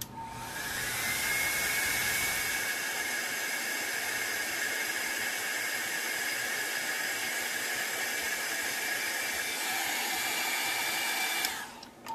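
A hair dryer blows steadily over an alcohol ink flower painting, a loud continuous whooshing hiss that runs for about eleven seconds before switching off.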